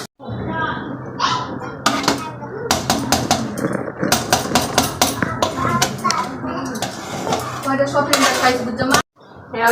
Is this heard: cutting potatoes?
yes